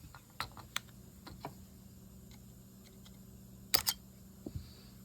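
The trip pin on a South Bend Classic 935 fishing reel gives a few faint, sharp clicks and ticks against quiet background hum, including a close double click partway through.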